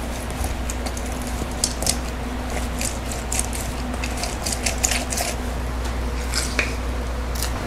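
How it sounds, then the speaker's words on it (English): A fresh lemon is juiced by hand in a kitchen, with wet squishing and dripping over a steady low hum, close and continuous with small irregular squeezes. "Next thing will be to juice a fresh lemon."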